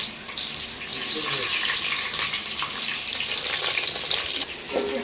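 Sliced onions and green chillies frying in very hot oil, a steady, hissing sizzle that holds for several seconds and fades slightly near the end.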